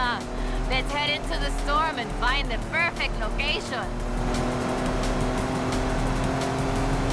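A Jeep Rubicon drives in Forza Horizon 5 in a dust storm, with a steady engine drone that continues under someone talking at the start and then runs alone.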